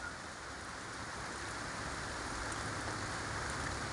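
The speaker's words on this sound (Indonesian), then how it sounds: "rintik-rintik hujan" Light drizzling rain falls on a calm, overcast morning, producing a soft, steady, even patter with no other sounds.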